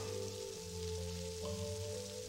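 Rain falling steadily in an animated cartoon, a soft continuous patter heard faintly with a low tonal background underneath and no talking.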